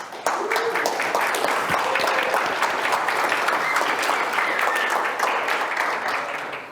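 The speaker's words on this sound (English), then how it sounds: "I'd like a round of applause for Liberty International for putting this thing on" A lecture audience gives a sustained round of applause to the event's organizers, dense steady clapping filling the room from start to finish, with a few faint voices underneath.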